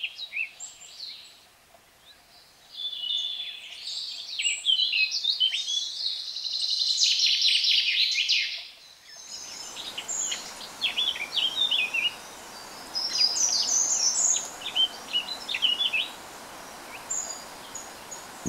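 Birds sing in an old oak forest in a nature reserve, with high chirps and trills from a few birds, moderately close, first alone over near silence and then over a steady buzz of insects.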